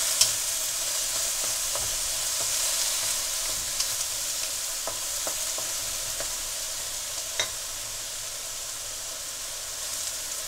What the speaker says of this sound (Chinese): 还得继续煸